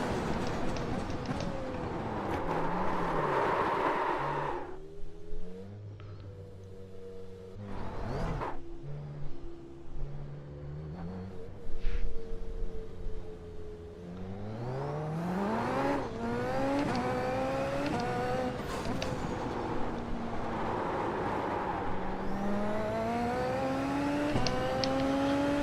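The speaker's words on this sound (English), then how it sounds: "This car's fast." Car engine in a racing video game, revving and accelerating loudly through repeated rising gear pulls and drops, with brief lulls between bursts and no talking.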